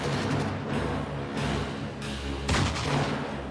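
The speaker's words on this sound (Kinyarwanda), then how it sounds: "Nacyumva amasasu." Gunfire in a dubbed action film: dense bursts of loud, booming shots layered over a constant roar, with sharp changes every second or so and a heavier blast near the end.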